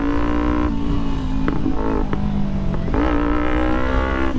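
A KTM Duke 390 motorcycle engine runs close and loud, its pitch rising and falling with a few quick revs over steady road noise.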